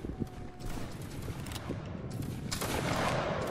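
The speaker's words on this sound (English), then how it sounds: "Get your shots off as soon as you get in." Musket volleys and scattered shots crackle through a Roblox Waterloo battle, a dense, continuous rattle of gunfire mid-distance with occasional sharper cracks, no clear talk over it.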